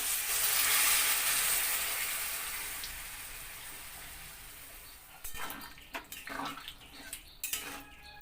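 Water is poured into a cooking pot of vegetables and polta leaves seasoned with cumin powder, a loud sizzling hiss that slowly fades, followed by a few close clinks and clatters of utensils.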